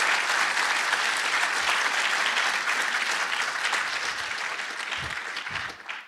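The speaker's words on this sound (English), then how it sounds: "Please give them another round of applause" Sustained audience applause at an Ingenuity 2016 event, a dense, steady wash of many hands clapping throughout, loud and even, easing slightly toward the end, with no talk over it.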